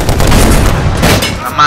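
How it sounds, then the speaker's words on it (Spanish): Machine gun fire in Medal of Honor Warfighter, a loud continuous burst of rapid shots with heavy booming low end, ending in a sharper final blast. "Mira, la ametralladora funciona."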